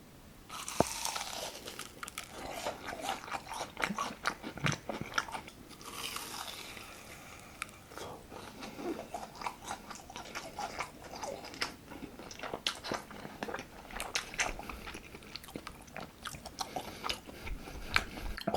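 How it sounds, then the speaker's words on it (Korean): Close, crisp biting and crunching into an uncut cheese-filled pork cutlet, then steady wet chewing and crackling of the fried crust, continuing throughout with no talk. "일단은 요거 치즈가스 요거 한번 먹을게요 이거 안 자른 거거든요 안 자른 거부터 먼저 하나 먹어볼게요"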